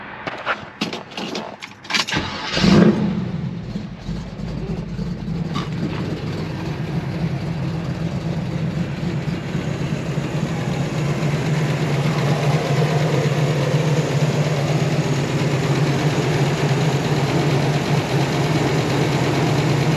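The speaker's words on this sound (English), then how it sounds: "Engine sounds good, it's idling" A 1969 Chevrolet Camaro V8 engine cranks and catches with a roar, then settles into a steady, loud, low rumbling idle that continues on its own.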